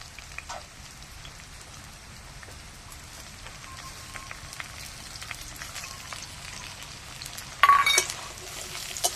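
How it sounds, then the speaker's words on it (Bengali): Mung dal and potato fry softly in a pan, a faint crackling patter with occasional sharper pops and a brief louder clatter of stirring near the end. "ডালটা একটুখানি ভেজে নেব।"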